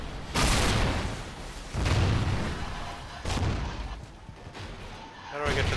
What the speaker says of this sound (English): Oops, I accidentally threw a grenade.